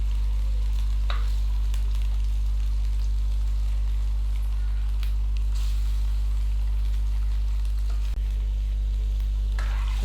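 Mutton pieces frying over garlic and ginger in a pan give a steady, loud sizzle with a constant low hum underneath and a few sharp crackles and pops, with no voices.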